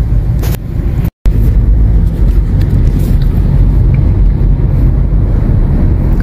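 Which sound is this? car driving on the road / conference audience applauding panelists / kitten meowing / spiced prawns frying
car driving on the road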